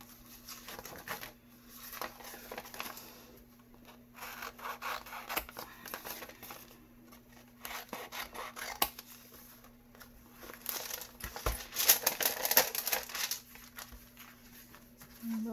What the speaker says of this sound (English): I need scissors.